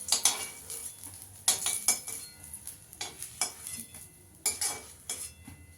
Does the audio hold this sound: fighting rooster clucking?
no